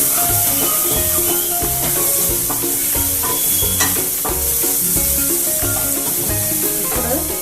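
Chili powder stirred into frying paneer masala, a loud sizzle with repeated scraping and clinking of a spoon against the pan in an uneven stirring rhythm.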